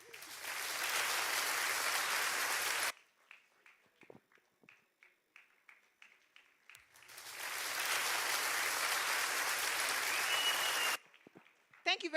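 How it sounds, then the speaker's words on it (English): Award ceremony audience at a breeding college anniversary applauding in two sustained loud bursts of dense clapping, separated by a quieter gap with scattered taps and faint voices. "Please let us keep clapping if we're not too tired."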